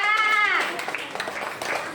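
Classmates applaud a student, a scattered burst of clapping following a brief high-pitched voice, moderately loud in a classroom.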